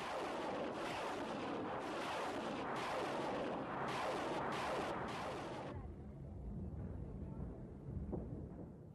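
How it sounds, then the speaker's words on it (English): Multiple rocket launcher firing during the Iran-Iraq war, a dense roaring barrage of rapid launches in repeated bursts, loud and continuous before trailing off into distant rumbling. "The multiple rocket launcher was another formidable artillery piece, as effective here as in the flatlands of the Southern Front."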